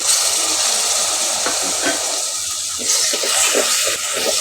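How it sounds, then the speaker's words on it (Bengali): Chopped onion tipped into hot oil, in a pan where fish is being cooked, sizzles and hisses loudly and continuously, close up, with a brief swell of crackling partway through. "এখন পেঁয়াজটা ঢেলে দিচ্ছি"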